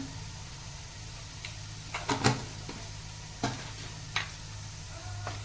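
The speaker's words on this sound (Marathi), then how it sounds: "आता हे पहिलं परतून घ्यायचं" A ground whole-spice masala paste with chili powder and turmeric being sautéed in a pan gives a low, faint sizzle, punctuated by a few brief spatula scrapes and taps.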